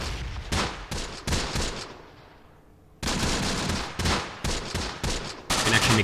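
Close Combat gunfire in a desert stronghold assault: loud rapid bursts of rifle and machine-gun shots, a short lull, then sustained volleys again.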